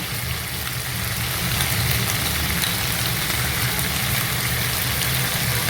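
Garlic and chilli paste, about three teaspoons, sautéing in a hot pan for chilli garlic chicken noodles, a steady close sizzle and fry hiss running evenly without a break.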